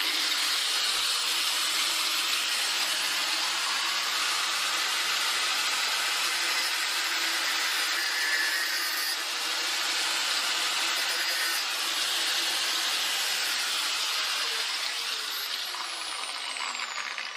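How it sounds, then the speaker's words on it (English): An angle grinder cuts through a part of an old Union bicycle, giving a loud, steady, hissing screech that runs unbroken for the whole stretch with no voices. "So I'll try my trusty angle grinder. It usually gets the job done."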